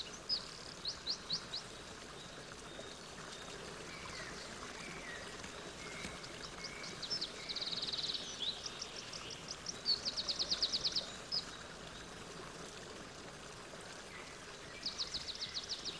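A Carpathian mountain stream flowing as it leaves the forest, a soft steady wash of water under scattered bird calls and chirps, with a few brighter bursts of song over a quiet background.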